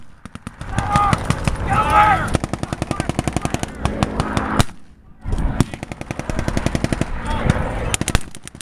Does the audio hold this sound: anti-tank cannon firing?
yes